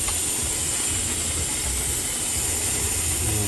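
Steady hiss of compressed air escaping past the piston rings of a Mercedes OM654 diesel engine during a cylinder leak-down test, a continuous broadband rush with a low rumble beneath, no talking.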